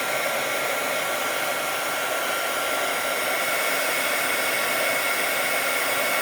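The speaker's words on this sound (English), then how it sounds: "You want to keep your heat tool moving because it can burn the page" Heat tool blowing over embossing powder on a page to melt it, a steady loud whooshing roar of hot air that holds constant throughout with no voices.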